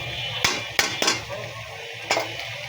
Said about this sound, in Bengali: আর ম্যাগি নুডলসের মশলাগুলো নাড়িয়ে মিশিয়ে নিব